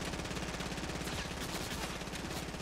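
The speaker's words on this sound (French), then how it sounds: "il y en a un qui me tire dessus" Rapid automatic gunfire in the Fortnite video game, a dense continuous burst of shots aimed at the player, fairly quiet and sustained for a couple of seconds.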